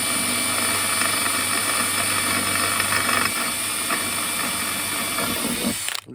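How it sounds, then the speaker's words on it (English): Power drill boring a small pilot hole during a lithium battery installation aboard a widebeam narrowboat; a steady, even whine runs for about six seconds close by, then cuts off abruptly at the end. "just putting a small pilot drill in there just to get the accuracy."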